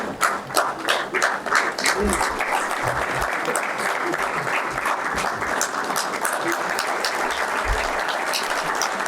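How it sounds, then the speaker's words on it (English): An audience at an incubator forum inauguration gives a loud, sustained round of applause to welcome the chief guest, with dense clapping and a few louder claps, then a slight fade. "Let us have a huge and thunderous round of applause in welcoming our Chief Guest"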